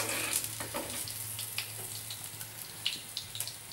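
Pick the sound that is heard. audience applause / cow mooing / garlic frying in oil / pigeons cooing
garlic frying in oil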